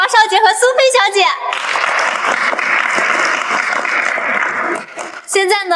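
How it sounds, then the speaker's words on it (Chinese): Audience applause at a charity fundraising gala, a sustained wash of clapping from a large crowd that swells after a host's speech and fades as the voice returns. "让我们再次把掌声送给王少杰和苏菲小姐。"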